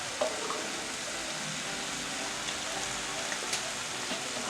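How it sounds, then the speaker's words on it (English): Sweet potato and beef stew stirred in a pot just after salt goes in, a steady soft scraping and sizzling hiss running evenly throughout with a few faint clicks, close and continuous with no talk. "continue stirring"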